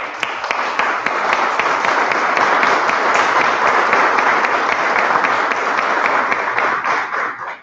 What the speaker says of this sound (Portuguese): E eu quero dar aqui a minha salva de palmas para vocês.